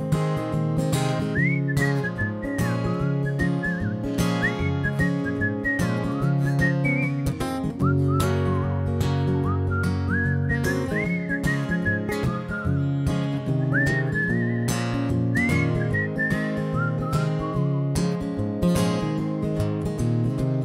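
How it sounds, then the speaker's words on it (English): A bright whistled melody from people whistling at an open mic floats over a full band backing, with short wavering phrases repeating through the music. "All right, now we're whistling now."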